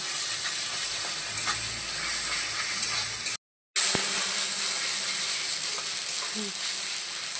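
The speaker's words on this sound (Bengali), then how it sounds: "আদা রসুন বাটাটা দিয়েও আরেকটু নাড়িয়ে চাড়িয়ে ভেজে নেব" Ginger-garlic paste fries with onions in a pan, giving a steady close sizzle and hiss with a few stirring scrapes, cut by a brief silent gap midway.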